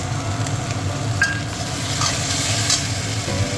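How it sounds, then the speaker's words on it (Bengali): A paste of coriander and two spoons of cumin frying in a pan gives a loud, constant sizzle with repeated stirring scrapes close by, and no voices. "এটাকেও ভালো করে ভেজে নেব।"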